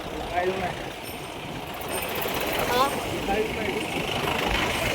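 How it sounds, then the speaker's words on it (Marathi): Engines rumble and idle as vehicles move slowly near a crowded Sant Tukaram Maharaj palkhi procession one morning, a constant mid-distance drone under the chatter of people talking. "कसले गाडी आहेत सकाळी सकाळी"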